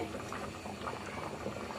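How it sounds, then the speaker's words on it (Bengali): Rice and water come to a rolling boil in a pot for beef tehari, with a steady, fairly faint bubbling and gurgling that runs throughout without pause. "এই যে আমার চালটা বলক এসে গেছে"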